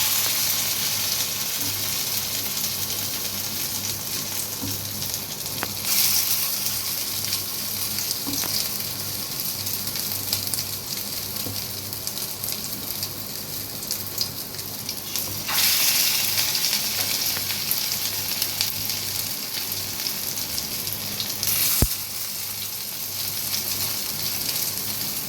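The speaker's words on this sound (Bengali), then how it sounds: "এবার বলসগুলোকে আমি ফ্রাই করে নেব।" Cheese chicken balls fry in hot oil in a pan over a medium flame, giving a steady close sizzle and crackle with a few sharp pops along the way.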